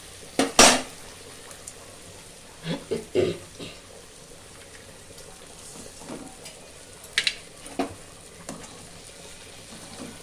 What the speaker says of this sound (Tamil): நான் இந்த அளவுக்கு வந்து மூணு முட்டை ஊற்றுறேன்